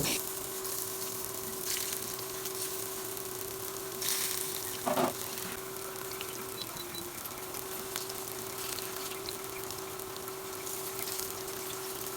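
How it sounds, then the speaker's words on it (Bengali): Cabbage manchurian balls fry in hot oil in a pan with a steady, dense sizzle throughout, broken by a few brief louder bursts and a faint tonal hum underneath. "তেল গরম হলে বলগুলো আবার হাত দিয়ে সুন্দর করে বল বানিয়ে তেলে দিব এক পাশ বাদামি হলে চার পাশ ঘুরিয়ে ঘুরিয়ে বাদামি করে ভেজে নিব"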